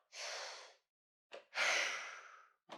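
Slow, audible exhalations during a seated breathing exercise, soft breathy rushes of air, two longer breaths with short puffs between, close and quiet with no talking.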